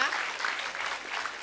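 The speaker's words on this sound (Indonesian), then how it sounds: "Tepuk tangan dulu dong" Audience applause for the winners of an Indonesian TV comedy show's game, a steady dense patter of clapping throughout the short stretch, fairly quiet and without voices.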